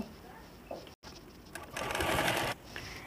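Sewing machine stitching the side seam of a silk blouse, a steady mechanical whir running for about a second near the end, after quieter handling noises.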